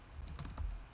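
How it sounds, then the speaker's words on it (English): Keys on a computer keyboard are typed in a quick burst of soft clicks that runs for about a second, with no voices. "I can hear you typing."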